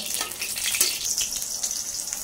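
Dried red chillies and garlic frying in oil, a bright close sizzle with irregular crackles and spatters across a short stretch.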